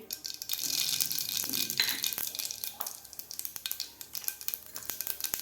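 Half a spoon of mustard seeds dropped into a little hot oil, a bright hissing sizzle that swells then settles into rapid irregular crackling and popping as the seeds splutter, close by with no talk.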